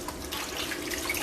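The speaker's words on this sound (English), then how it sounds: "Let me just give my hands a quick rinse." A kitchen tap runs as hands are rinsed, a steady close splashing stream with small irregular splatters, heard alone for a moment.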